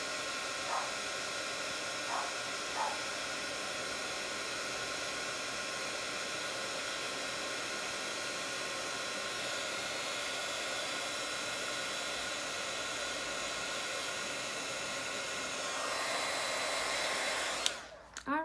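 A heat tool blows hot air over a mermaid craft kit, a continuous, even hiss of airflow that runs unbroken for a long stretch, close and steady, before cutting off with a few clicks near the end.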